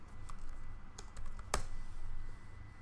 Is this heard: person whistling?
no